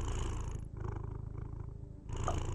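Steady, continuous cat purring in the video game Tokyo Dark, close and fairly loud, with a slight rhythmic pulse and a brief dip in the middle before it swells again.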